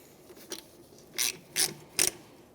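A wrench tightens the brake caliper bleeder on a 2011-2017 Honda Odyssey, giving a few quiet ratcheting clicks, close and spaced out, with no talking.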